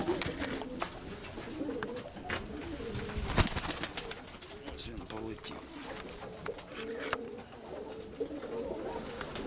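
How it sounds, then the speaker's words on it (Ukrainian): Pigeons coo softly and repeatedly amid a busy background of other birds and general noise, with a voice speaking at times. "Ось цей голубок."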